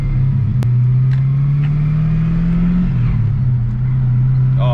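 Holden Commodore SS with a manual gearbox driving, a loud steady engine drone that rises slowly then dips as it shifts, with no talk over it.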